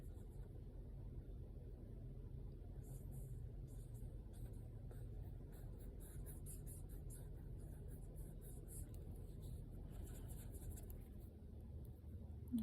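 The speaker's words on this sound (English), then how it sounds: "maybe I will draw a blue flower up here" A pen drawing a flower in an art journal, faint scratchy strokes coming in short bursts through the middle and end, over a steady low background rumble.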